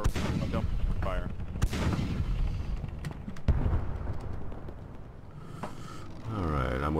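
Heavy cannon fire booms from ships in the naval battle game Blackwake, with loud blasts and rumbling over a constant sea-battle roar. A player's voice talks in places.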